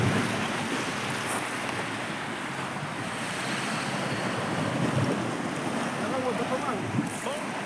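Strong surf crashes steadily along a windy, rocky shore at Orikum, with gusts of wind buffeting the microphone throughout. Loud and continuous, no talking.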